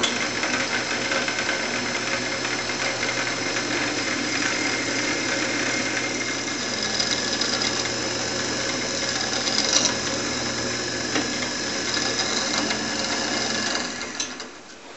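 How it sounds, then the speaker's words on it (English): A power drill bores and countersinks holes through a wooden base for a Paschal candle stand, using a 3/16 inch bit. A steady, close motor whine runs unbroken for the whole stretch before winding down at the end, with no voices. "We've got all the holes drilled all the way through, countersunk"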